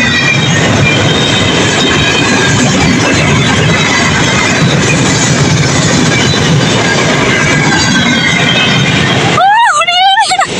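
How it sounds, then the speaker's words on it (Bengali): A train pulls into the new Jamdia railway station on the Benapole–Dhaka line, its loud, steady rumble and clatter filling the scene before a long tonal horn sounds near the end. "অপেক্ষার প্রহর শেষ হলো এবং ট্রেনটা অবশেষে চলে এলো"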